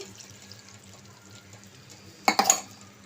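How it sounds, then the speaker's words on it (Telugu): Water poured from a glass into a pot of amaranth leaves, a brief splashing burst near the end after quiet kitchen background. "ఒక గిన్నెలోకి తోటకూర వేసుకొని ఒక గ్లాసు నీళ్ళు పోసి ఉడకబెట్టుకోవాలండి"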